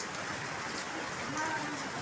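Rain falls outside during the rainy season in Bengal. It makes a faint, steady hiss throughout, with a soft trace of a distant voice.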